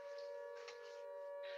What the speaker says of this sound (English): The sirens get closer.